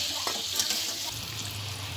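Chopped onion and tomato fry for pasta in a pan, giving a steady close hiss with a few stirring scrapes, constant and moderately loud, no voices.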